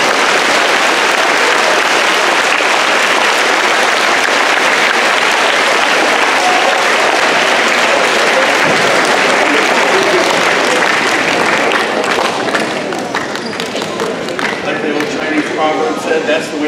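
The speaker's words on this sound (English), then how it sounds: "give them a round of applause" Sustained audience applause at a talk, loud and dense for most of the stretch, thinning toward the end into scattered claps with some voices.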